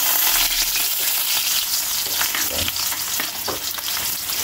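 Garlic sautéing in hot oil for a Filipino shrimp and misua dish, a steady dense sizzle that stays loud throughout, with a few scraping stirs near the end and no voices.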